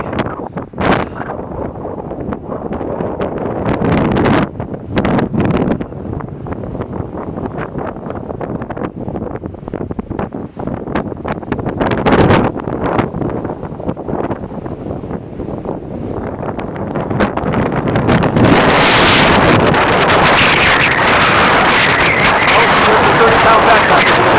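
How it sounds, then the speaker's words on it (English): Strong wind gusting across a mountain pass, a loud roaring buffet against the microphone that surges and dips in bursts and builds to a sustained heavy blast toward the end. "it's really windy."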